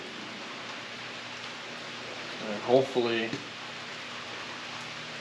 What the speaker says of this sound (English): So looks like we're working in the rain.